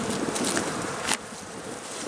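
Honey bees flying out of a hive during an early spring inspection, a steady close buzzing drone with a brief louder swell near the middle, no voices.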